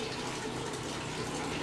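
Coffee streams steadily from a tiny hole in an insulated cup, a continuous close trickle and gush of liquid with no talking.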